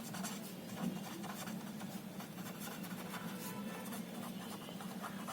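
Faint scratchy strokes of writing on a board during a class 7 maths lesson on triangles, quiet and continuous against a low steady room hum.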